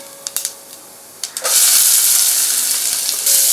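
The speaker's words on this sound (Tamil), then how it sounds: "ஆயில் காஞ்சிருச்சு கடுகு போடலாம்" Mustard seeds dropped into hot oil in a pan for banana stem stir-fry: a few faint pops and crackles, then a sudden loud, sustained close sizzling hiss that holds steady to the end.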